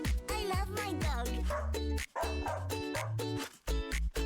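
A dog yips and bow-wows in quick, high-pitched bursts, several close barks and whimpering yelps with short pauses between them, loud and near.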